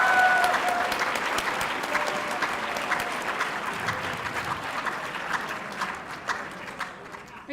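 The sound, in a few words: audience applause for Congressman Joe Kennedy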